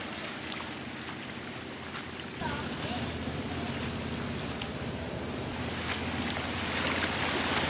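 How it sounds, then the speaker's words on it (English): Floodwater from Hurricane Milton rushes off a main road in a continuous broadband roar of flowing water mixed with wind, growing louder partway through, and a voice talks over it. "This shows how fast the water's running off the road."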